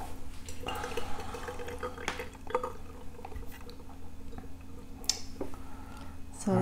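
Rinse wash of aged raw pu-erh tea poured from a brewing vessel, a soft liquid trickle and drip with light clinks of glass and ceramic teaware, close by under people talking.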